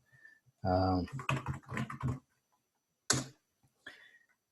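Computer keyboard typing during a hybrid quantum programming webinar: quick key clicks and clatter in short bursts, close and moderate, mixed with a voice talking through parts of it.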